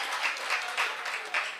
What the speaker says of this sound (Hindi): मैं चाहता हूँ एक बार जोरदार तालियों से स्वागत करें मैम का